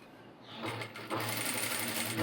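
A sewing machine runs slowly along a neckline, starting quiet and then settling into a brisk, close mechanical chatter of stitching that continues to the end, alone with no voices.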